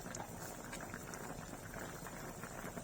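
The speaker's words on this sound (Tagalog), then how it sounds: "Antayin lang natin na maluto ang ating hipon. Kunting kulo lang." Shrimp for laswa simmering in a pot, giving a steady low bubbling hiss that holds faintly and evenly with no talking.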